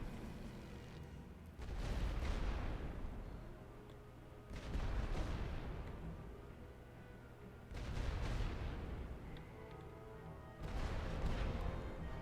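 Artillery in a rolling barrage of The Great War video game booms in four heavy rumbling waves, each a long, dense, low roar that swells and fades before the next, distant-sounding and without talk.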